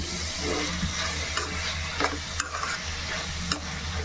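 Masala ingredients cooking down in a pan for a Telugu ridge gourd (dosakaya) kurma, a soft steady sizzle broken by a few sharp scrapes and clinks of a spoon stirring, with no talking.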